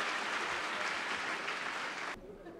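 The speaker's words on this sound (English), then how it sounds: "they really deserve a huge round of applause" A school audience of parents claps together for children's abacus performance, a dense burst of applause that holds steady and then cuts off abruptly near the end.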